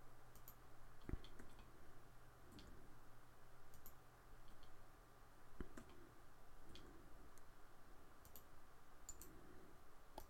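Mouse clicks while working in AutoCAD on a 3D pipe bracket are sharp, isolated and quiet, several spaced seconds apart over a faint steady hum, with soft rustles between them.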